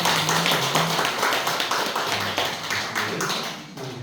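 A church congregation claps during a Sunday worship service to welcome new members, a dense, even patter of hands lasting the whole stretch and fading slightly toward the end.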